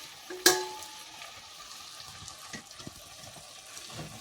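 Chilli, coriander and turmeric powders hitting hot oil in a pan for fish curry and being stirred, a sharp initial crackle then soft ongoing sizzle with scraping stir sounds.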